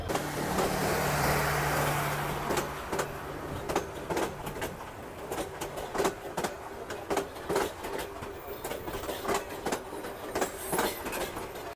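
The Korotoa Express train and its locomotive roll through Gaibandha station, a low rumble giving way to a rhythmic, nearby clickety-clack of wheels over rail joints, with a few birds faintly audible.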